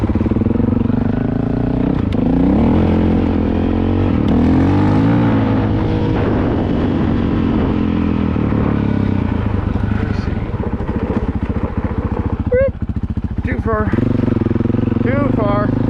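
A Honda CRF450L dual sport motorcycle rides along a trail near Priest Lake, its engine droning loudly and steadily up close, rising and falling with throttle throughout.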